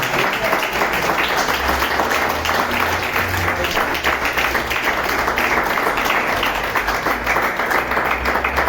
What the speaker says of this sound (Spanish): Denle una ofrenda de palmas al Señor Jesucristo.